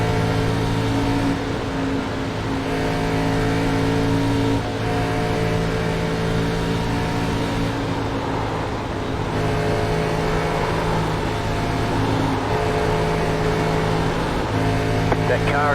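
Race car engine in the iRacing sim, a steady loud drone with sustained harmonic tones throughout, the car sliding on track, with a voice talking over it.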